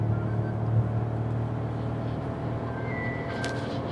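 Maruti Suzuki Grand Vitara hybrid (2023) accelerating hard from 0 to 100, a steady loud engine and road rumble heard from inside the cabin, with a faint rising whine near the end.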